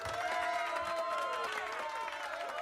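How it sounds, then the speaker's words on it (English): A round of applause with crowd cheering, faint and steady throughout, with a tonal ringing layered over it. "y'all deserve a round of applause."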